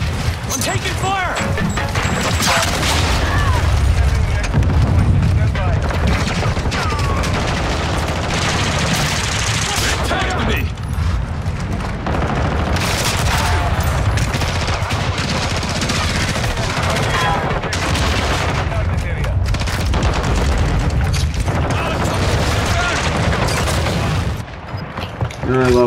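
Sustained in-game gunfire from Call of Duty Modern Warfare fills the whole stretch, dense bursts of rifle and automatic fire with crashes and booms, loud and close, with voices and game chatter mixed underneath.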